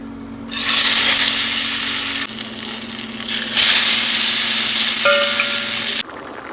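Loud, continuous sizzle of eggplant frying in a pan, with a steady hum underneath that cuts out abruptly near the end.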